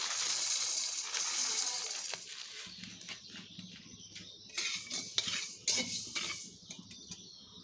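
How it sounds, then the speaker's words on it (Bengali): Fenugreek seeds frying in a pan while being stirred for a raw mango chutney, a bright hissing crackle at first, then a series of metallic spoon scrapes and clinks against the pan. "মেথিগুলো হালকা হালকা ভাজা হয়েছে।"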